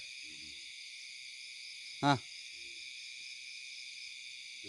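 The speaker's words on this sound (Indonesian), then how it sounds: "Kok ada suara burung ya? Suara burung apa ya?" At night in hills and forest near a spring and cave, a bird gives soft, low hoots a few times, faint and distant, over a steady high insect drone, with one brief spoken word in the middle.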